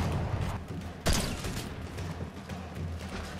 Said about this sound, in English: You can shoot while you're holding the shield.